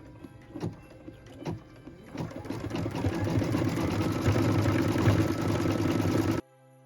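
A sewing machine stitches medium green holly-style leaves onto a branch of a Christmas tree skirt, starting with a few isolated needle thumps, then running into a steady, loud continuous whir before stopping abruptly.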